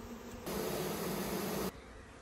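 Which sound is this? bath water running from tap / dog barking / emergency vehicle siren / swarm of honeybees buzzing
swarm of honeybees buzzing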